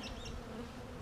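Honey bees buzz steadily near an open hive during work on the hive bodies, a close, continuous drone with no talk.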